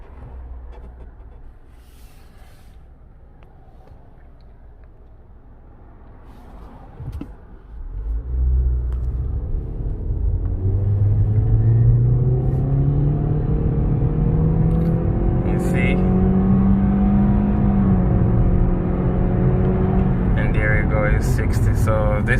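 Toyota C-HR economy car accelerating hard toward 60 mph, a loud interior engine rumble and whir that rises steadily after a quiet start, with rising engine tones building over about fifteen seconds.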